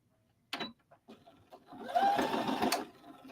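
A budget sewing machine with 21 stitch settings stitches a quilt block, first in a few short bursts, then in a steady whirring run of about a second before it stops.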